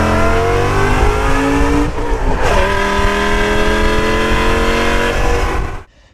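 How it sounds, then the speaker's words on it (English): A BMW E60 M5 with a naturally aspirated V10 and aftermarket exhaust revs hard up through the gears, loud and close, with a brief dip for a shift midway before the sound cuts off abruptly at the end. "that naturally aspirated V10. Oh my gosh, with the proper aftermarket exhaust equipped, that thing sounds absolutely glorious."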